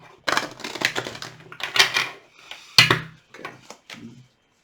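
Cards riffle and snap in quick bursts, a few short shuffling flurries close by with brief pauses between.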